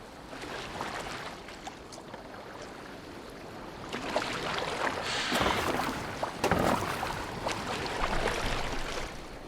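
Rowboat oars dipping and pulling through water in Assassin's Creed Valhalla, a steady wash of splashes and sloshing with a few stronger strokes, close and fairly loud with no talk.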